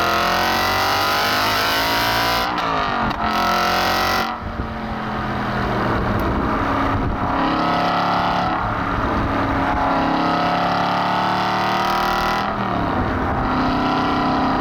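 Aston Martin V8 Vantage N400 Roadster with its exhaust switch opened, the V8 barking loud and raw through repeated revs and accelerations, close to the microphone with no talk.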